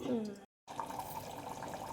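Water being added to a pot for chicken biryani rice, a short gurgling pour with a clear burbling tone, interrupted by a brief silent gap before it continues, fairly close.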